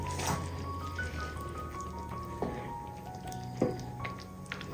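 Sambar being stirred in a pot after cooked ingredients are poured in, with soft wet squelching and a few distinct liquid clinks and drips over a steady low background hum, moderately quiet and close.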